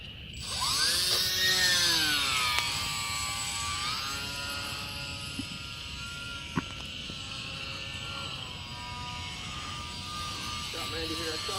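A UMX Mini Timber RC park flyer plane taking off from wet, muddy dirt, its small electric motor whining and rising in pitch, then holding a steady buzz as it climbs away, with people talking nearby.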